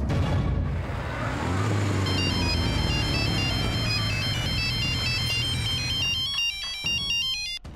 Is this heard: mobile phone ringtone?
yes